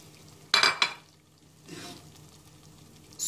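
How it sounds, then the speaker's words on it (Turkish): Chickpeas, garlic and onion tipped into a pot of frying meat for Antep-style şiveydiz soup: two sharp clattering drops, then a soft sizzle and stirring, fairly quiet and close. "Etler pişti. Şimdi nohutu sarımsağı ve soğanı ekliyorum."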